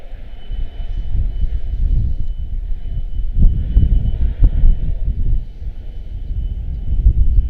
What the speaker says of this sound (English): runway 30, clear for takeoff